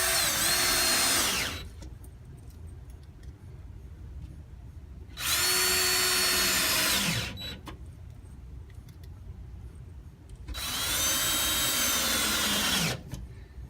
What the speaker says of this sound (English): We'll put a couple of screws in each side to hold it.